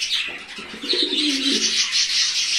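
Fantail pigeons of a breeding pair coo softly in a low, brief murmur at a loft in Chikkamagaluru, set against steady airy background hiss with no talking.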